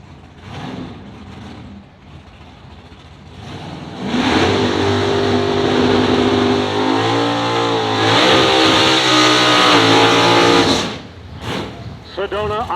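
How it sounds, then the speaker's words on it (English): A 1970 Chevelle with a 615 cubic inch big block engine at a pulling and wheelie exhibition, revving loud and close in long sustained bursts, with an announcer talking over it. "a beautiful 1970 Chevelle, 615 cubic inches of big block power for Ron Streets of St. Charles, Illinois."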